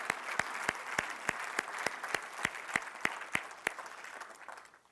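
A church congregation applauds steadily, a rhythmic run of distinct claps at moderate distance that gradually thins and fades out at the end.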